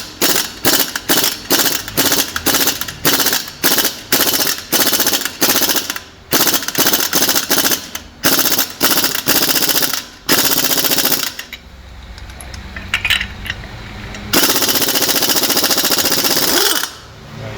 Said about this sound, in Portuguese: se eu tô tirando, eu tiro com a pneumática